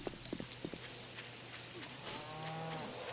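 A cow in the 7 Days to Die survival game lets out a low, drawn-out moo near the end, preceded by soft clip-clopping steps and small thuds, faint under steady game ambience and a repeating high chirp.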